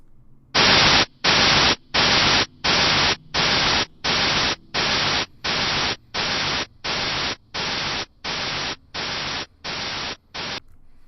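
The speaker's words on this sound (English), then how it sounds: "difference between the first and second section of white noise" Bursts of hissing white noise repeat about fourteen times in a steady rhythm, each roughly half a second long with short silences between, gradually getting quieter.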